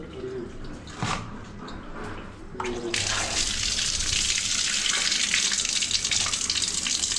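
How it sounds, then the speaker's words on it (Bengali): Running tap water rinses pieces of mutton curry meat in a home kitchen, starting with a few splashes and clinks, then a steady close gush of water pouring over the meat. "তো আমরা এখন এই মটনটাকে ভালো করে ধুয়ে নেব"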